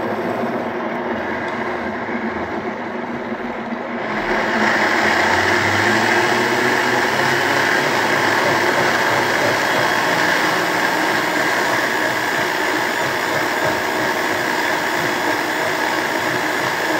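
A blender whirs loudly and continuously, mixing freshly squeezed orange juice, lemon and water; the motor's pitch rises and grows fuller a few seconds in, then holds steady in a dense, close roar.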